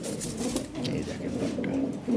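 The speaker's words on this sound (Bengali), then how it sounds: "কবুতর দেখেন এটা মাদি" A breeding pair of short-sized European Lahori pigeons on a farm gives soft, low cooing. The birds are close and the sound runs steadily through the short stretch amid general background noise.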